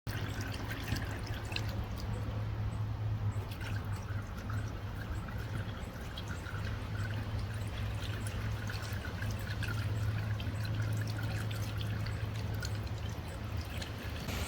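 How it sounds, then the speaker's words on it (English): A solar fountain spouts water into a pot outdoors in a backyard garden, giving a steady trickling, splashing patter with a low, constant wind rumble underneath and no talk. "solar fountains also come with different spouts, so you can get a totally different effect."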